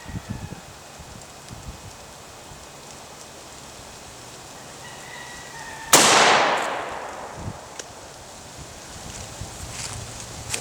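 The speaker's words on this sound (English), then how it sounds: "here we go with that Hornady .357 Magnum 125 grain flex tip" A single sharp, loud gunshot from a Ruger GP100 4-inch revolver firing a Hornady Critical Defense .357 Magnum 125 grain flex tip round, with a brief decaying report after quiet outdoor ambience.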